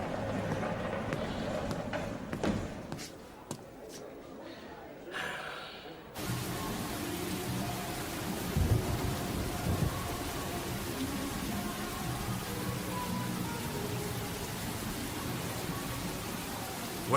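Rainstorm with thunder in a French action film: steady dense rain hiss fills the scene, with low rumbles, after a quieter opening section with scattered knocks and movement.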